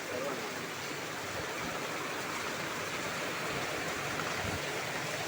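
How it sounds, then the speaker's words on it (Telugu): Heavy rain pouring down, a loud unbroken wash of noise that stays level throughout, like water streaming, with no clear voice above it. "బాగా పడుతుంది వాన, బాగా పడుతుంది."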